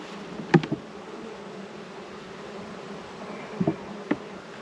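Honey bees buzzing steadily around an opened hive, a continuous close drone with a few louder bees passing near, no talk.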